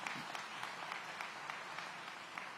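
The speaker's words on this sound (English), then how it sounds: "Give Roseanne a round of applause for her dedicated service to our community." An audience at a city public safety meeting in Aurora, Illinois applauds, a steady spread of clapping with a few sharper individual claps standing out, fairly faint and distant.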